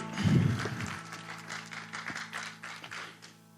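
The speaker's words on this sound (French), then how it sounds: "On acclame la parole de Dieu." A church congregation claps and cheers in praise of the word of God, a loud burst at first settling into steady, fairly close applause that slowly thins out.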